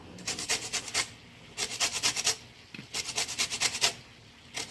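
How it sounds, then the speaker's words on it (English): A lemon is grated against a zester in rhythmic bursts of short rasping strokes, three clusters separated by brief pauses, close and clear with no talking. "I'm also going to zest the lemon in here."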